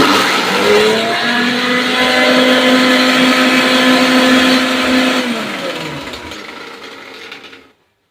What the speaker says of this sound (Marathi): आता आपल्याला हे मिक्सरमध्ये बारीक करून घ्यायचे सगळंच बारीक करायचं आहे मिरची पण कोथिंबीर पण आणि लसूण जिरं